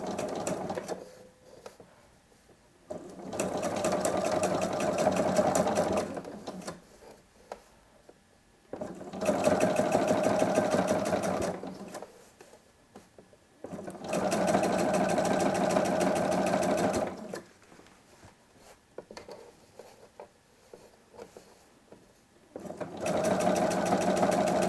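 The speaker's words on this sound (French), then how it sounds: "je commence à piquer en partant du haut" A sewing machine stitches an invisible zipper into fabric in four steady bursts of rapid, even stitching, each run a few seconds long and separated by near-quiet pauses. No one speaks.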